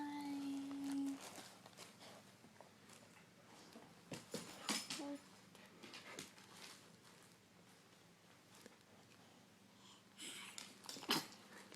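A dog gives a few short, sharp sneezes and snorts close by, scattered across a quiet stretch with faint breathing between them.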